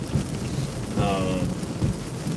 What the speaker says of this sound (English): Just chasing down a pretty good sized storm that just passed through.